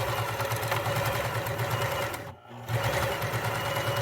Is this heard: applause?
no